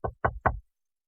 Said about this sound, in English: There was a gentle knock, and Pretty Alice got up with an exhalation